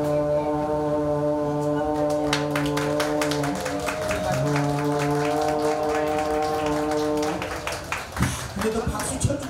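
A street performer at a sweetfish festival voices a ship's horn, holding long steady harmonic tones in a loud, sustained imitation, with clapping and crowd noise rising around him near the end.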